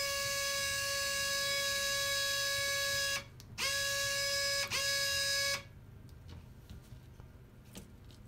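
A Nike HyperAdapt 1.0 self-lacing shoe's lacing motor gives a steady, close electric whine in three bursts, one long and two short with brief gaps, lasting about five seconds before it stops and only faint clicks remain.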